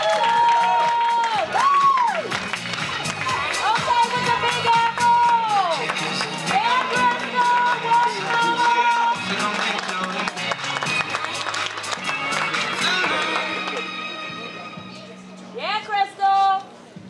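A crowd at the OCB Big Apple ProAm 2019 bodybuilding show cheers and whoops for a female athlete, a loud, continuous roar mixed with scattered clapping over stage music, with a voice talking at times.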